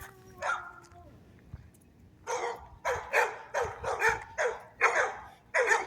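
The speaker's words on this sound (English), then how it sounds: "let's have 6 or 7 dogs and have them all be freaking barkers when people walk by" Several dogs bark in quick, loud bursts after a few opening yips and whines, the barks overlapping in an uneven rhythm.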